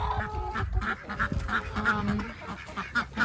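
Ducks quack repeatedly in a winter shelter during a Texas snowstorm, a close, busy chorus of overlapping honking calls in a steady rhythm with no talking.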